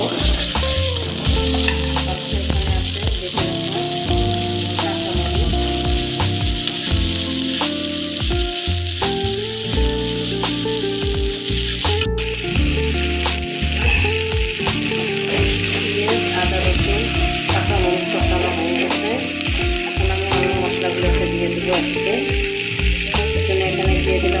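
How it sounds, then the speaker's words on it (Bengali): Ground onion paste fries loudly in a pan for a prawn dish, a constant close sizzle with frequent scraping and stirring strokes throughout. "এখন দিয়ে দিলাম বেটে রাখা পেঁয়াজ পেঁয়াজ দিলাম ভালো করে একটু নেড়ে নেড়ে কষিয়ে নেব"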